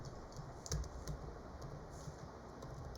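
Quiet typing on a computer keyboard while entering text into a Word document, a run of soft, close key clicks in an uneven rhythm with a couple of slightly firmer taps, no voices.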